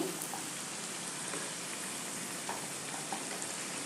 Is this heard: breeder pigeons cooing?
no